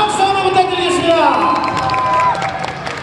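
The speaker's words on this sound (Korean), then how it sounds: "박수 한번 부탁드리겠습니다" Applause and cheering from a crowd at a middle-school division final of a championship, sustained clapping mixed with loud chattering voices and shouts, busy and close.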